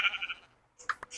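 A goat in a Minecraft-style survival game gives short, faint bleats, a few brief cries spaced across about a second with quiet gaps between them.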